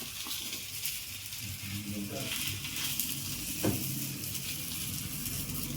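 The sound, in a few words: obbattu sweet flatbread cooking on an oiled pan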